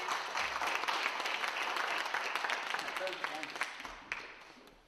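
An audience claps for a team at a live French storytelling event, sustained applause that gradually thins toward the end, with a few voices mixed in.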